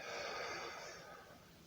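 A soft, drawn-out breath, faint and steady, fades gently over under two seconds during a stretching and breathing exercise, with no voices.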